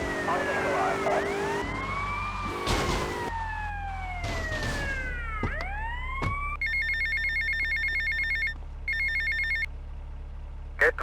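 A payphone rings in Grand Theft Auto Vice City, its rapid electronic bell trilling in repeated bursts after swooping siren-like game sounds and sweeping tones, all loud and close.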